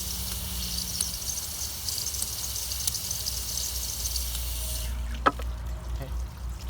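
Steady rushing water flushes out of a Dodge Nitro heater hose, then cuts off abruptly near the end, followed by a brief clunk and quieter background.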